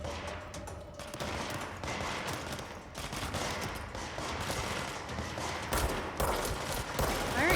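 Sustained gunfire rattles through a firefight in the video game Control, with dense rapid volleys of shots continuing for several seconds without talk.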